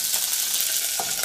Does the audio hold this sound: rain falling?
no